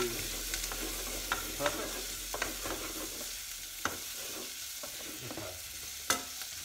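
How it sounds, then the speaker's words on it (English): Onions, garlic and mince frying in a pan for pea and courgette soup, a soft constant sizzle with irregular scraping knocks of a utensil stirring, and a brief word spoken over it. "So onions, garlic, mince in there, cooking down a little bit."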